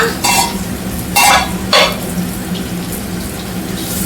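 Bitter gourd fries in a pan with a steady low sizzle, broken by a few brief scraping stirs, with no one speaking.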